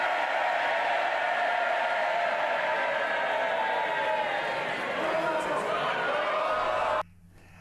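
MPs in the House of Commons raising a loud, sustained cheer of many voices with chatter mixed in, continuing for several seconds before cutting off abruptly near the end.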